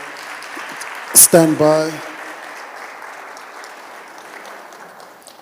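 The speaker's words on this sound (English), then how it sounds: "Let's give them a big round of applause." An audience claps for panel speakers at a discussion event, a soft, diffuse patter that continues steadily beneath a brief spoken phrase and fades slightly toward the end.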